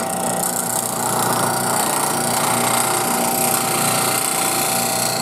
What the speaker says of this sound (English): Grinder's up to speed.